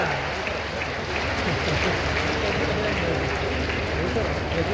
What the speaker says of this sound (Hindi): दोनों हाथ जोरदार ताली बजा करके इस पूरे कार्यक्रम में शामिल हो जाए।